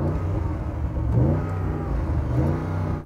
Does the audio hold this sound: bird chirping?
no